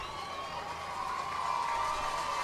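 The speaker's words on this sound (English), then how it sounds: "Mustang crowd letting them hear about it" Grapevine Mustangs fans cheering at a Texas high school 5A state championship football game against Lovejoy, a distant, steady roar of crowd noise with scattered shouts and applause that swells slightly toward the end.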